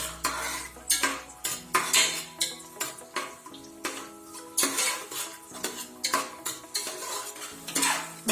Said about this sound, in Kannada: ಮತ್ತು ದ್ರಾಕ್ಷಿ ಸ್ವಲ್ಪ ಹುರ್ಕೊಳ್ಬೇಕು.